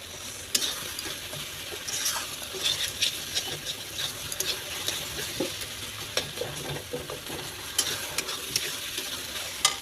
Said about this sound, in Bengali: দেখতে পাচ্ছ আমার মশলাটা প্রায় ভাজা হয়ে গেছে